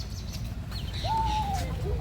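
A parrot at an old fort gives a single drawn-out, cooing call that imitates a pigeon, set against a constant low rumble of outdoor background noise.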